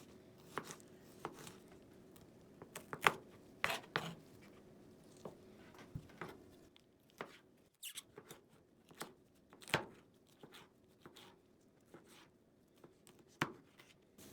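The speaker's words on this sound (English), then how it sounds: "line all your pieces up evenly and cut them just like I do" A knife chops bell pepper pieces on a cutting board in irregular, crisp taps, some single and some in quick runs, close and fairly quiet with no talking.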